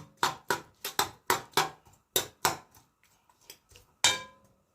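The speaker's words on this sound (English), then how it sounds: "I'm going to stir it up like this" A spoon knocking against a pot while a coconut drops mixture is stirred during Jamaican cooking, giving a run of sharp, close clinks in an uneven rhythm that thins out and then ends with one last louder hit.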